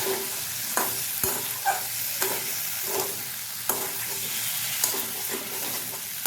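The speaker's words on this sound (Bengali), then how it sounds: "নুন চিনিটা দেওয়ার পরে আবারও বেশ কিছুক্ষণ নাড়াচাড়া করে কষিয়ে নেব" Taro (kochu) frying in a pan with salt and sugar while it is stirred, with a continuous sizzle broken by regular scraping strokes of a spoon about every second, close up and without speech.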